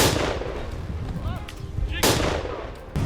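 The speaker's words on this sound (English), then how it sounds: "A thunderous gunshot echoed through the field." During a wild boar hunt in an open field, two loud, sharp gunshots crack about two seconds apart, each with a booming echo, under a faint voice.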